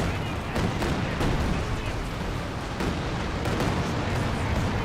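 A rocket artillery barrage in the World War II strategy game Company of Heroes 2, a dense, continuous roar of overlapping blasts and rumbling impacts with sharp bursts throughout.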